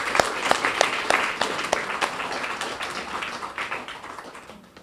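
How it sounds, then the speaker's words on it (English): At a 2024 King's Birthday Honours ceremony in St. Lucia, an audience gives recipients a round of applause, clapping with distinct individual claps that gradually thin and fade out. "Let us give our recipients another resounding round of applause."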